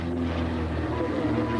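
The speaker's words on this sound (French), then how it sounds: "Qui passe avec ce magnifique Fokker bien décoré, avec le Pégase volant sur la dérive." A Fokker airplane, decorated with a flying Pegasus on its tail fin, flies past at a 1993 air show at Cambrai air base 103, giving a steady droning engine hum throughout with no speech.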